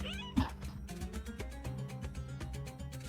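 A small cat in the game Hidden Cats in Istanbul gives a single short meow near the start, then the steady background music carries on alone.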